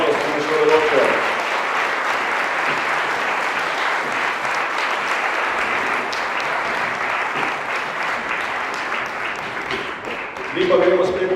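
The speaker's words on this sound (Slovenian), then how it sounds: "Dajmo še enkrat aplavz za otroški pevski zbor" Sustained applause from a large audience for a children's choir, steady and loud throughout, fading slightly near the end as a voice begins over it.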